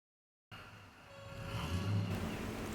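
AU Ford Falcon XR8 V8 idling and creeping in reverse out of a garage, a steady low rumble starting abruptly and swelling slightly louder as it moves, close by with no talk.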